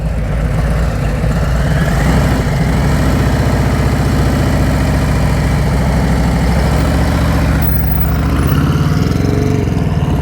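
A motorcycle engine runs at low speed during an advanced slow-speed riding practice session. Its loud, steady drone hardly rises or falls, with a faint shift in pitch near the end.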